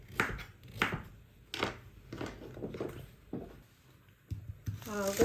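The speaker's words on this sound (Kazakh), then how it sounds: "Асқабақтарымызды осындай майда көбектеп турап аламыз." A knife chops pumpkin into small cubes on a board, giving quiet, irregular thuds and taps. Someone talks over the chopping.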